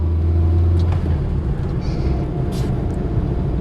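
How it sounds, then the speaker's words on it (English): A 1975 Austin Allegro 1100 Deluxe driving in third gear at about 20 mph, with a steady low engine drone and a sustained transmission whine heard from inside the cabin. "Gorgeous, gorgeous transmission whine."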